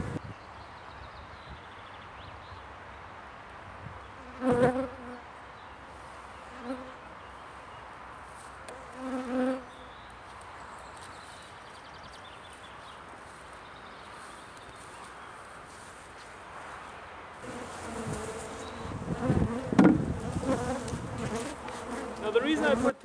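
Honeybees buzz continuously around a beehive outdoors, a dense steady drone with individual bees passing close now and then, rustling and handling noises growing louder near the end.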